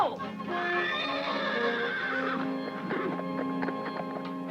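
Cartoon horses give high, wavering whinnies over a busy background, followed by quick clip-clop hoofbeats as they run off, with shouting voices mixed in.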